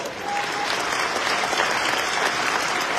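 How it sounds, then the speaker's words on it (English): Applause from an audience at a city mayor's forecast event for a business foundation, a dense steady wash of many hands clapping, loud and continuous throughout. "So let's give her a round of applause."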